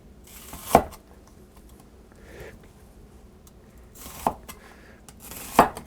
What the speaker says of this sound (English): I'm going to coarsely chop this onion